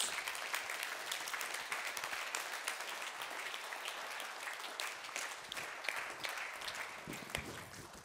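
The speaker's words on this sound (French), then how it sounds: "Vous pouvez vraiment applaudir Roger Roux." An audience at a municipal council meeting applauds Roger Roux, sustained mid-distance clapping with sharp individual claps standing out from the steady crowd patter, continuing evenly without speech.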